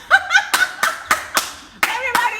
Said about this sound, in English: Clap. Standing ovation.